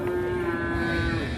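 Cattle held in a pen low out in one sustained, loud moo that fills the moment, with no talk over it.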